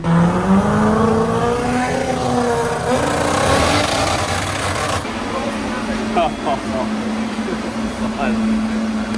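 A rotary-engined car at a Brisbane rotary car jamboree comes up on boost with a loud, ground-shaking rise in engine note, then holds a steady throbbing drone, with people talking over it.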